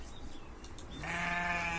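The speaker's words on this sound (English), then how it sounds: "This is the sound of sheep." A single sheep bleat rises out of a low murmur of background noise, a wavering nasal call that holds for about a second and is fairly faint.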